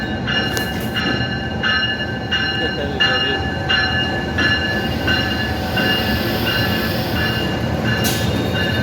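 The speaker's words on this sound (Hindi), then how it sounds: "बहुत ही खूबसूरत अंदाज में सिब्बी रेलवे जंक्शन में जाफर एक्सप्रेस का अराइवल हो रहा है।" Jaffar Express rumbles into Sibi railway junction, a loud continuous rolling roar of wheels and cars with steady tonal whines and periodic clicks of carriages passing close by.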